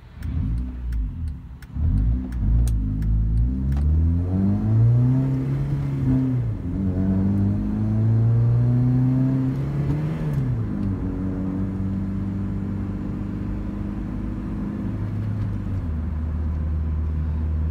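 A Honda Civic with its last muffler removed drones loudly and steadily, its raspy exhaust note rising and falling through the gears, then settling into a low, even fourth-gear cruise.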